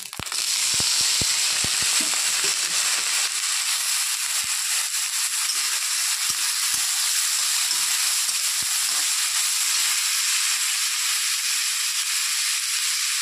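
Chopped chillies and potatoes drop into hot oil in a wok, bursting into a loud, steady sizzle and hiss with a few sharp crackles and pops at the start, continuing unbroken throughout.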